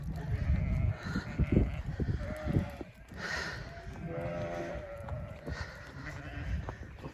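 Sheep bleat repeatedly on a farm during lambing preparation, several wavering calls close to the microphone over rustling movement, with a brief human call among them.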